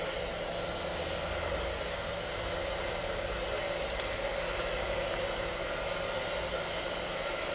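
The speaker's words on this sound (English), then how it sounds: "this is a 22-inch kinky straight wig that I am blow drying after we shampooed and conditioned it" A hair dryer blows steadily on a 22-inch kinky straight wig after shampooing and conditioning, a constant close, loud rushing whoosh without break and with no talk.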